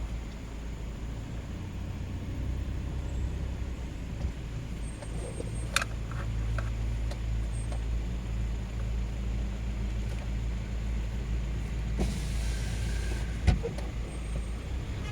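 Slow traffic inching around a large roundabout in Blois, France, with trucks in the queue: a low, steady engine rumble from nearby vehicles, with a few faint clicks and brief higher noises over it, and no voices.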